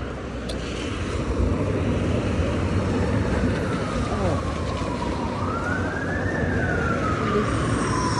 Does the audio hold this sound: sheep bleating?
no